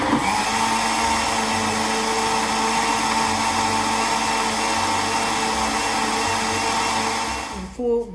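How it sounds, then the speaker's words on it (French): Kitchen blender puréeing shrimp bisque, a steady loud whirring motor held for about seven and a half seconds before it cuts off. "Et nous allons commencer à mixer."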